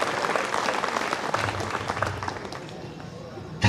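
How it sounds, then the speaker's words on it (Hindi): An audience applauds steadily, a dense wash of many hands clapping that gradually softens, with faint crowd murmur and speech underneath. "तो जब अच्छा लग रहा है तो बजाइए तालियां आराम से"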